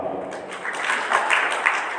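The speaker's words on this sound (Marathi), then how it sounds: "तुम्ही तुमच्यासाठी टाळ्या वाजवा" Audience applause at a book festival speech, a steady wash of clapping from a hall crowd that swells slightly over two seconds, heard alone without talk.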